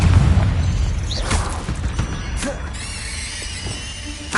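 A Confringo blasting spell explodes in the video game Hogwarts Legacy, a heavy low boom that rolls and rumbles for several seconds with crackling debris and whooshing effects on top.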